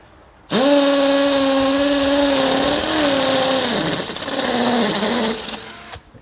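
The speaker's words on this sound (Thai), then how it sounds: "มาดูการใช้งานนะครับ เจาะผนังปูนเลยนะครับ" A large cordless drill whines steadily at high speed, its pitch dipping and straining as it bores into a concrete wall, then cuts off.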